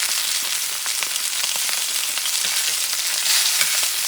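Steak frying in a pan with garlic, thyme and fat, a steady, close, loud sizzle with crackling pops throughout, no voices.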